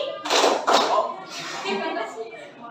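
Children clap their hands on command during a Simon Says game in a classroom: two sharp, loud claps close together near the start, then a teacher's voice speaking.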